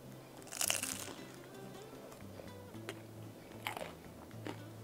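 Someone bites into crunchy fried ground beef and potato flautas, one crisp crackling bite, then quieter chewing close to the mic, with no talk.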